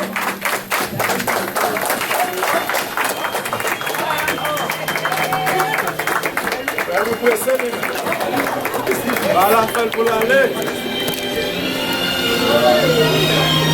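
Applause and clapping from guests at a wedding ceremony, a sustained dense patter of many hands lasting throughout, close and loud, with crowd murmur underneath.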